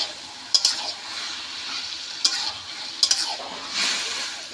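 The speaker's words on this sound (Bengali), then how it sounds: "আর এইভাবে ভালো করে নাড়তে হবে যাতে তলায় বসে না যায়।" Hilsa fish head with taro greens and green chillies being stirred in a pan, a soft low sizzle punctuated by a few sharp spatula scrapes, close and without voices.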